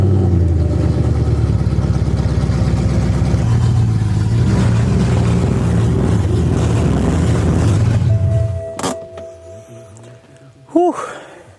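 BMW M3 with a V8 engine breathing through a custom one-off exhaust, a loud, sustained rumbling rev that drops off sharply near the end, leaving quieter sounds and a brief voice.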